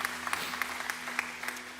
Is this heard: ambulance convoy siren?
no